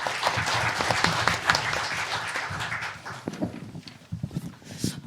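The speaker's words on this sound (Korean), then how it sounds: "큰 박수로 환영해 주시기 바랍니다." An audience at a forum panel discussion applauds to welcome the next panelist, dense clapping that is loud at first, then thins out and tapers into scattered claps near the end.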